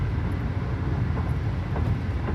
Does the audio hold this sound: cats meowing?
no